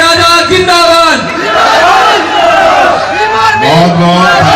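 A large crowd at an outdoor political rally in Neem Ka Thana roars and cheers continuously, loud and dense, with a voice shouting over the noise.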